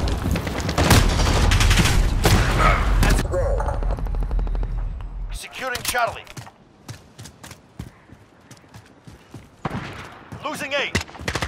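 Gunfire in Call of Duty: Modern Warfare: rapid automatic bursts rattle loudly at first, then give way to scattered single shots and short bursts, with radio-style voices talking between them.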